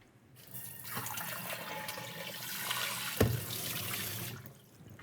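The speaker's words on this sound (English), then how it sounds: "I'm going to rinse out my pan." Tap water runs steadily into a pan being rinsed out in a kitchen sink, with a brief clatter partway through before the flow trails off.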